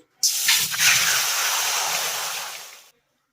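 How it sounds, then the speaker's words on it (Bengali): Water poured into a hot wok to steam cauliflower stalks bursts into one loud, close hiss of spitting steam that lasts nearly three seconds, then cuts off into silence. "ভাপিয়ে নেওয়ার জন্য আমি কড়াইতে দিয়ে দেবো একটু জল"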